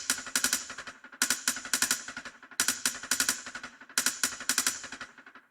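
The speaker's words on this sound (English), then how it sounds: "Just 9000 rim with delay at half mix" A 9000 rim percussion sample with delay at half mix plays in rapid clustered hits that repeat in a steady loop, each burst trailing echoing repeats. No voices.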